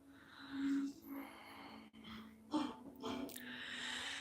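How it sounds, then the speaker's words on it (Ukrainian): Slow breathing in and out during a yoga class, a few soft inhales and exhales close up, with quiet, breathy texture and no talking over it. "І відпочиваємо вдих, видих."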